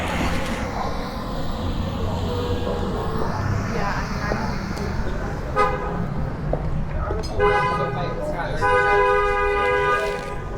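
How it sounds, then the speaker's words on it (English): Car horns toot in short, repeated blasts in Greenwich Village traffic at Christmas, several sharp honks cutting over a busy street rumble with background voices. "that was an unnecessary honk."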